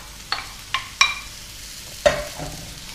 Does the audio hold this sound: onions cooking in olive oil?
yes